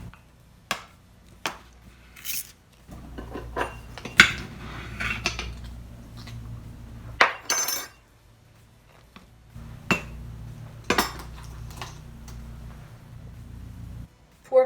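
A measuring spoon scooping and levelling white granulated sugar, giving scattered light clinks and scrapes at an irregular pace with quiet gaps between, close by and fairly soft.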